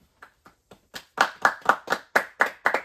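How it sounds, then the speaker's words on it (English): A few people clap, starting with sparse, soft claps that quickly build into a steady rhythm of louder, close hand claps, with no voices. "Let's clap it up."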